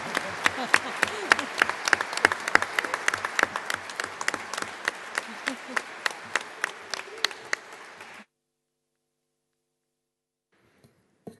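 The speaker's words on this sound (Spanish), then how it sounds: "Así que, Alfonso, un aplauso grande y todo nuestro cariño" An audience at a union labor-reform panel gives a warm, steady round of applause with scattered sharp claps, lasting about eight seconds before cutting abruptly to near silence.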